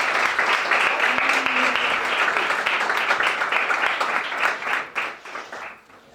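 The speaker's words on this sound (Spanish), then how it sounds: "recibámoslo con un fuerte aplauso" A school audience in Arroyo de San Serván claps steadily to welcome a speaker, a dense round of applause that thins out toward the end.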